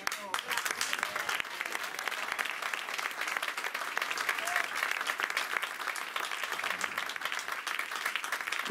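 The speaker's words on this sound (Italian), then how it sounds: "E questo applauso" Steady applause from an audience at an evening event at a golf club in Sanremo, dense and sustained throughout with faint voices mixed in.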